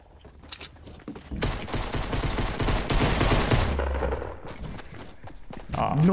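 Rapid shotgun blasts in the video game Fortnite, a dense burst of loud gunfire from roughly one and a half to four seconds, fading into scattered shots with faint voices underneath.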